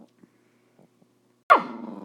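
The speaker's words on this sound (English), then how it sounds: "My dog is barking." A single loud, close dog bark breaks a near-silence, preceded by a few faint soft sounds.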